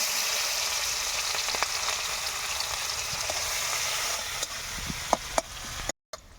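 Chopped onions fry with bay leaves and garam masala in oil, a steady close hiss that fades slightly toward the end, broken by a few sharp spoon taps and stirs.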